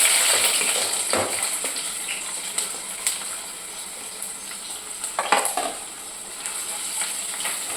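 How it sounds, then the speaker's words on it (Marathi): Onion fries in hot oil in a wok for chana pulao, a steady close sizzle with intermittent clinks and scrapes of a spatula stirring, moderately loud and fading slightly early on. "हलकासा परतून घ्यायचा थोडा ब्राऊन असा कलर येऊ द्यायचा त्याला"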